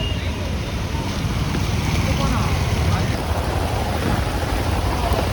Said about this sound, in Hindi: आप लोगों को बॉम्बे की बारिश दिखा रही हूँ, खतरनाक वाली